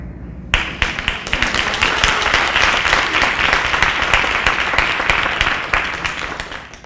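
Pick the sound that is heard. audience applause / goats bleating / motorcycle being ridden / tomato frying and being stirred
audience applause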